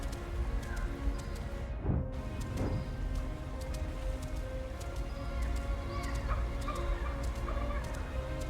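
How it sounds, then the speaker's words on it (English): Bird calls sound in a dark fantasy video game, where a few short chirps and cries rise above a steady bed of ambient noise, with one sharp call near the start and fainter calls scattered later. "Hear that? Bird."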